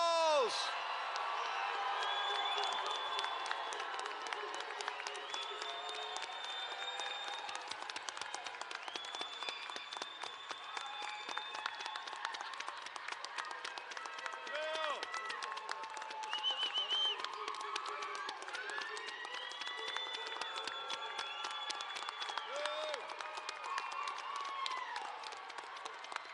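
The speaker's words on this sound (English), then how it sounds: "let's give all of our graduates a big, big round of applause" Sustained round of applause from a commencement audience for associate of arts graduates, dense continuous clapping with scattered whoops and cheers lasting throughout.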